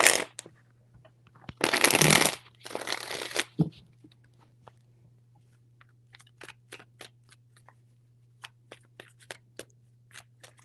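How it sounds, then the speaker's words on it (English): Cards are shuffled in two loud riffling bursts, followed by a quiet stretch of scattered soft ticks and taps over a steady low hum. "Three shuffles."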